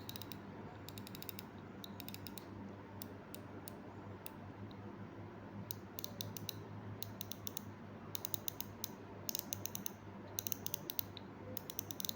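The one-way rotating bezel of a Lige LG10045 dive watch is turned through its 60 click positions, producing bursts of fine, rapid ratcheting ticks close up and fairly quiet, separated by short pauses.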